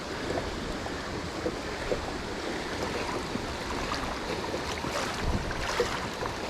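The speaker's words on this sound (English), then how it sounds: "That water's moving fast." Steady rushing water of a fast-moving creek fills the clip, a broad continuous wash with faint splashy bursts, fairly close and with no voices.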